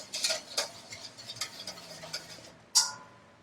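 A whisk clicks rapidly against a bowl while mixing oil and vinegar salad dressing, a quick series of light metallic taps followed by a single sharper clink near the end, with no talking.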